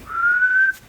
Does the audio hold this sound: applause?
no